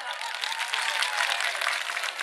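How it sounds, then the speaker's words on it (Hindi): Audience at a live comedy show in Balag applauds, a dense, even wash of many hands clapping at once, sustained and fairly loud throughout. "गाड़ी जी एक बार तालियां हो यार खींच के जरा।"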